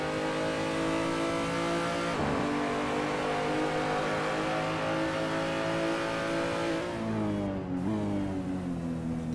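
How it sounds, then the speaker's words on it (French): BMW race car engine in Assetto Corsa at Okayama, heard from an onboard camera. It drones steadily at high revs, then drops pitch briefly around two seconds and again near seven seconds as it shifts or brakes, with no talk. "On profite du son de cette BMW."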